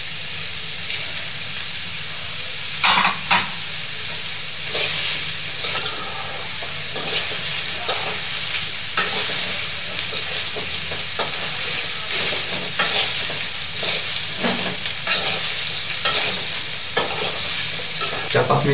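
Instant noodles are stirred and fried in a hot pan with scallion greens, a loud steady sizzle and hiss running throughout, punctuated by repeated scraping and clattering stirs close by, with no talk.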